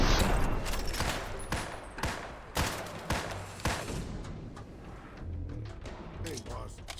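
Gunfire in the Fallout: Tale of Two Wastelands game, a rapid fusillade of sharp loud shots in bursts that thin out toward the end, with a voice speaking over it.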